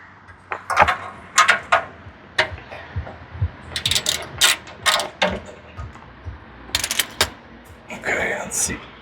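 A ratchet works loose a bolt on a Lexus GX460 during an oil change, giving bursts of quick metallic clicks in several close, irregular runs.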